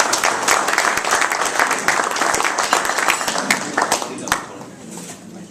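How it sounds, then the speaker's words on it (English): A morning gathering's audience applauds for Guy Walker, a steady broadband wash of many hands clapping at close range that fades in the last second, with voices talking over it. "Round of applause for Guy Walker."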